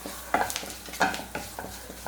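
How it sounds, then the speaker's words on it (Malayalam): Chili and coriander powder masala stirred in a pan, a spoon scraping in several short separate strokes about every half second, close and fairly quiet over a light sizzle, with no talking. "എല്ലാം കൂടി നന്നായിട്ടൊന്ന് ഇളക്കി കൊടുക്കാം"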